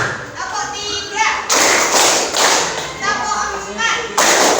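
Children clap together in a rhythmic pattern, loud bursts of unison claps arriving in short groups between stretches of chanted group voices, close and dense.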